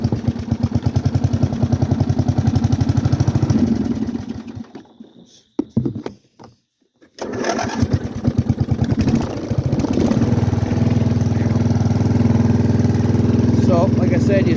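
An MTD riding lawn mower with a 12.5 hp Briggs and Stratton engine cranks, stalls briefly, then fires and runs, a loud rough chugging idle close by with clattering rhythm throughout.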